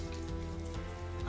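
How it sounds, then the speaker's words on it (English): Water runs steadily over hands being washed with hand soap, a close, continuous patter and splash with a faint hum underneath and no speech. "I'm going to wash my hands with the normal"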